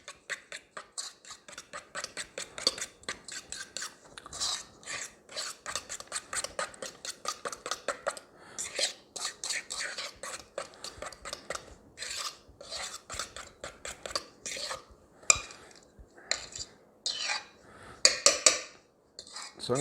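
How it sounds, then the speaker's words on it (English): Dry and wet ingredients for chocolate keto muffins being mixed in a bowl, a close, rapid run of rhythmic scraping and rasping strokes with brief pauses, no talking. "we're going to take our dry ingredients and we're going to start mixing it with our wet ingredients"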